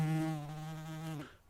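A single bee buzzes close and steady for just over a second, a clear droning hum that fades out at the end.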